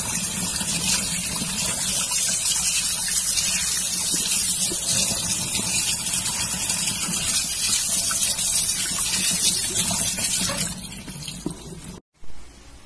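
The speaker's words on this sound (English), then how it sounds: "First, you need to wash the eggs carefully." Chicken eggs are rinsed under running water, a steady broadband gush of tap water splashing into a sink that runs continuously and close by, then cuts out abruptly near the end.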